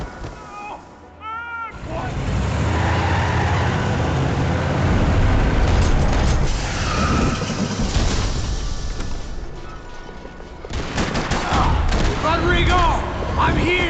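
Gunfire rattles through a parking lot in the video game Max Payne 3, a loud sustained barrage of shots and impacts that briefly drops away before bursting out again.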